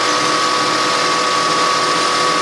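A milling machine spindle spins a slitting saw, producing a loud, steady whine with a constant high pitched tone and no talking.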